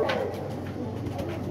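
Pigeons, a group of flying birds, coo softly in low, rounded calls against a faint background murmur, close but quiet throughout.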